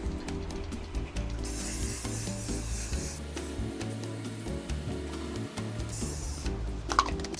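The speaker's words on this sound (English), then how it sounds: "Now I just gotta spray" A spray paint can spraying metal mesh in bursts, two broad hissing sprays lasting a few seconds each over a loud steady hum, with clicks and rattles between them.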